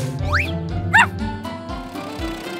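A cartoon puppy gives two quick, bright yipping barks close up, set against a busy musical background.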